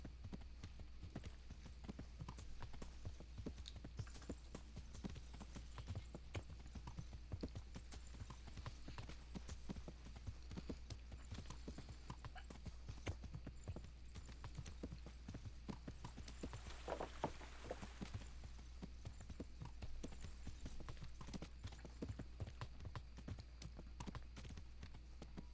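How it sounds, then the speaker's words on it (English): Horse hooves clop steadily along a path in the medieval open-world game Kingdom Come: Deliverance, a continuous rhythmic walking beat heard alone at moderate distance for the whole stretch. "I like that the horse can stay on the path."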